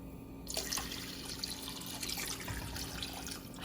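Broth pours into a risotto pan with brown rice and porcini mushrooms, a close, continuous splashing stream that runs steadily throughout without talk.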